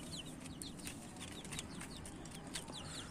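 Chickens on a farm where birds are vaccinated against fowl pox, a scatter of faint clucks and chirps over a soft steady background hum, distant and low.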